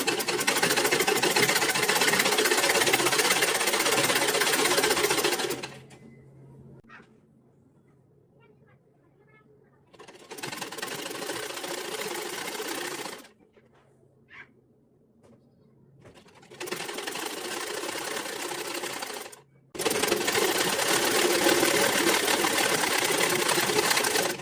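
A sewing machine stitches fabric while making a fabric latkan tassel, running in four loud, steady whirring bursts separated by short quiet pauses.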